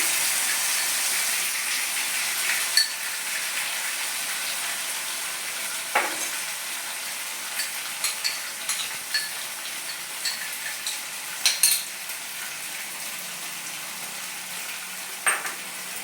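Tomato and paneer paste frying in a pan over a medium gas flame, giving a steady soft sizzle throughout with occasional louder scrapes and clicks as it is stirred.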